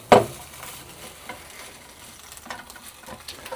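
Burger bacon cheese rolls sizzle softly in a frying pan, a low steady crackle after a sharp thump as they are placed, with a few light scrapes and taps.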